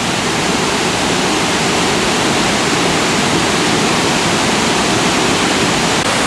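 Burney Falls in California roars as a constant, loud, dense rush of falling water, a steady close-up wash with no gaps and no voices.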